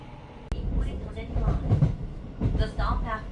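Steady low rumble and rail clatter inside a Keisei stopping train running between stations toward Ueno, with faint voices in the cabin.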